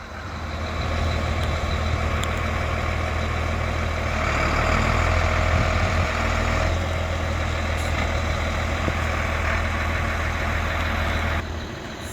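A Freightliner FL80 truck idles steadily at a weigh scale, its diesel engine giving a loud, even, close rumble throughout with no talk over it.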